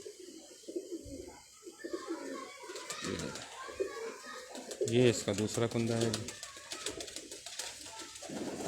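Ferozpuri pigeons coo softly in the background, with a louder burst of cooing partway through, while someone talks over them.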